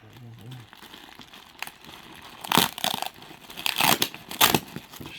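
Plastic packaging on a set of RZR Pro door bags is crinkled and ripped open by hand, with several loud tearing bursts toward the end after a quieter, rustling start.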